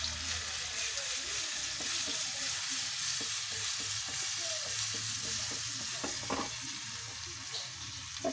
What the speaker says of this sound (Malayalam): വെജിറ്റബിൾസ് എല്ലാം നമുക്കൊന്ന് വഴറ്റാം